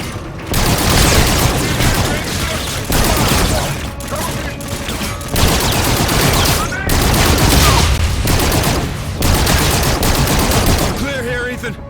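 Dense gunfire in the Call of Duty Infinite Warfare video game on a Mars mission: loud, close bursts of rapid automatic shots repeating in waves with brief gaps, joined by booming impacts and mechanical clatter.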